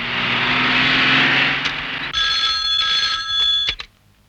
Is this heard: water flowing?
no